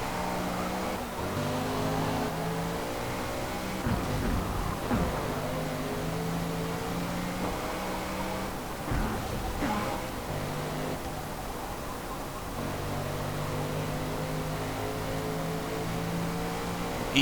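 A race car in Forza Motorsport roars down a straight, its engine note holding steady and loud with rising and falling harmonics as it gears through acceleration, continuous throughout with no talk.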